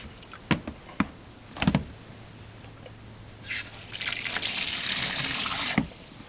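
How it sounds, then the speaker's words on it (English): A few knocks and clunks, then water begins rushing steadily into a small boat's inboard motor water pickup line, a loud hissing flow that continues before cutting off near the end. "turn on my water going into my water pickup"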